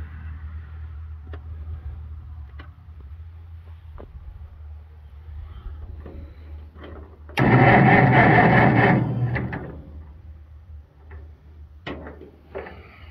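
An old Oliver tractor engine cranking and trying to start outdoors: faint irregular ticks and clicks, then a loud rough burst of about two seconds that fades away, followed by more scattered clicks.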